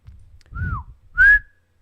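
A person whistles two short, clear notes close to the microphone, the first a gentle falling tone and the second louder and held slightly longer.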